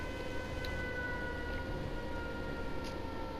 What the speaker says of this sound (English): let's just turn that off because the sirens can get a little bit irritating